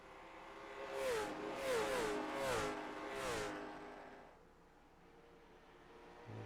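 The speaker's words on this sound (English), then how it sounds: "he's gonna have a heck of a time trying to get by the 72 car of Morgan Gwynn." Late model stock race cars in a racing video game roar past on the track, engines revving in several rising and falling sweeps, loud at first and then fading to a quieter drone.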